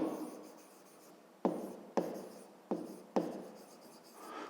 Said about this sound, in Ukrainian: Ну що ж, записуємо тоді.